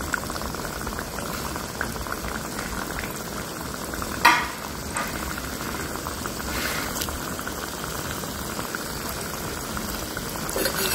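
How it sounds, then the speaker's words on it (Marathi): Shankarpali, sweet diamond-shaped dough pieces, fry in hot oil over a low flame, giving a constant soft bubbling sizzle close by, with a single sharp clink of a utensil partway through. "एकदम मंद आचेवर या शंकरपाळ्या तळायच्या."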